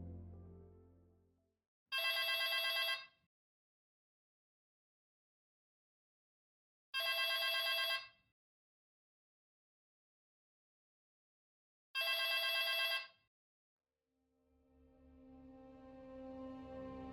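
A telephone rings in three separate bursts spaced about five seconds apart, loud and clear against silence, with low rumbling ambience fading in at the start and end, in a horror game setting.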